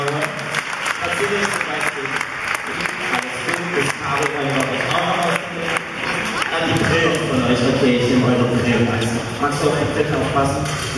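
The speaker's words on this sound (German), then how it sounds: "Kleiner Applaus für True Styles" Audience applause for the dance group True Styles, steady and dense across the whole stretch with voices calling out and cheering over it, swelling slightly louder near the end.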